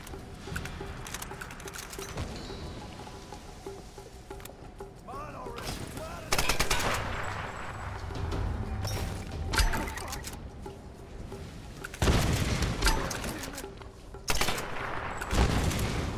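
Rifle and gunfire in the video game Tomb Raider (2013), bursts of shots and impacts that keep recurring and grow louder in the middle and near the end, set over a steady game soundscape with occasional faint voice.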